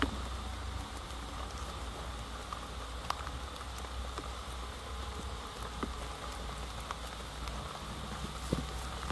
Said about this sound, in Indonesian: Rintik-rintik hujan ini menyeramkan Lur sebenarnya.